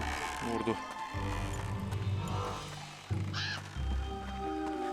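Crows caw in the video game Pumpkin Jack, with a couple of rising and falling calls cutting through the game's music and background noise.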